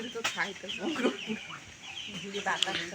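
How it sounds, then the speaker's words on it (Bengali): Chickens cluck repeatedly at close range in a rural outdoor setting, with a sharper squawk near the end and faint background voices. "মুরগি আইছে মুরগি ওই যে দেখছেন"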